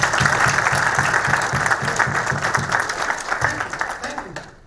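An audience claps together at a ceremony honoring a speaker, loud and close, with steady rhythmic applause that thins out and fades at the end.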